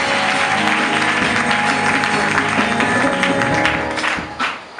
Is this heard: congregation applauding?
yes